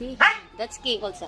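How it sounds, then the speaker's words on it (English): A dog barks once sharply up close, followed by a few softer yips while a person talks over it. "That's my dog"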